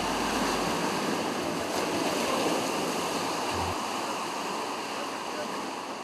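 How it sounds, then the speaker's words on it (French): Ocean waves break against a breached shoreline in front of homes at Doun Baba Dièye, Gandiol, a steady broadband wash of surf with wind noise, continuous and fairly close. "subit les assauts répétés des vagues de l'océan"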